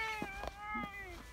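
A stray cat in Kochi, Japan, gives a single drawn-out meow, close and fairly soft, with a brief breathy onset and a falling tail.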